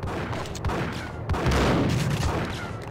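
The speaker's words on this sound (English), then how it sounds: "I hear shots." Gunfire in the Max Payne video game, several loud shots and bursts crowded together over a dense, rumbling mix, with no pause between them.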